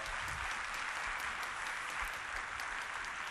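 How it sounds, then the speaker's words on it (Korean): A church congregation applauds the Sunday school children and worship team, a continuous even wash of clapping at moderate, slightly distant level with no talk. "우리 더 크게 한번 박수하겠습니다"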